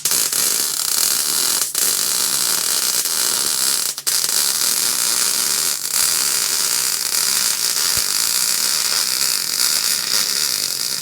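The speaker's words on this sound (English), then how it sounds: "big welds coming in." Arc welding on a shipping container, a steady loud crackling hiss sustained throughout with a few brief breaks where the arc stops and restarts.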